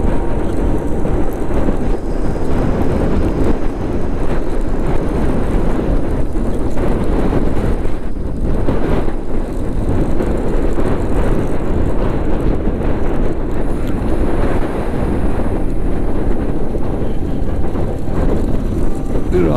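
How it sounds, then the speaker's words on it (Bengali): Heavy wind buffets the microphone in a loud, unbroken roar while riding a motorbike through Lower Mustang, Nepal, on the way from Pokhara to Muktinath, with engine and road noise blended underneath. "প্রচন্ড হাওয়া, মানে উড়িয়ে ফেলে দেবে এরকম অবস্থা"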